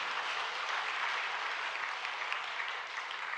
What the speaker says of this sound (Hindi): थोड़ी ताली वाली बजा के आनंद भी ले सकते हैं।